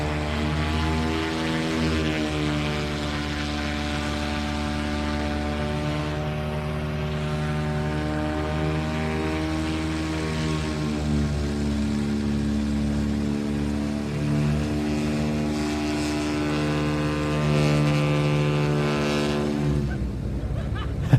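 A Decathlon propeller aircraft at IWM Duxford holds a loud, steady engine drone at high revs, with strong harmonic tones that swell slightly near the end before cutting off abruptly.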